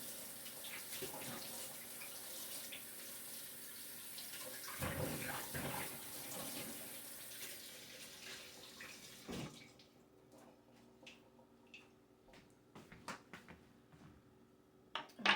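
Tap water runs steadily as plantains are rinsed in a kitchen sink, then the flow stops and soft clatters and knocks of handling follow.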